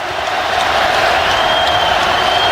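A basketball arena crowd rising and cheering during a tense late-game moment in an Arkansas versus Alabama college game, a loud dense roar and clapping that swells and holds steady throughout.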